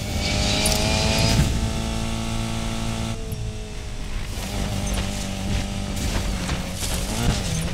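Subaru BRZ engine in the racing video game Need for Speed Payback, a sustained loud drone with rising and falling revs, a brief dip midway before it picks up again.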